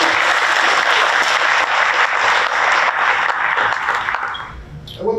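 Audience at a school district facilities and bond measure advisory committee meeting applauding steadily for about four seconds, fading out before a voice resumes near the end.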